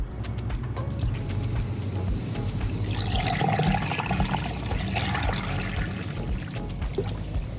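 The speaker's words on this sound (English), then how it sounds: "we're gonna go ahead and pour this right directly into the cell" Water and acid mixture, eight parts water to one part acid, poured into an in-ground pool's salt cell, a steady continuous splashing gush lasting throughout, fairly loud and close with no talk.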